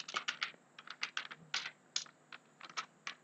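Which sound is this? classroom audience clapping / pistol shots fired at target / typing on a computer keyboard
typing on a computer keyboard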